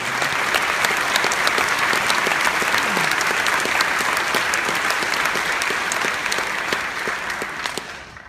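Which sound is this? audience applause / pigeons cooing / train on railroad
audience applause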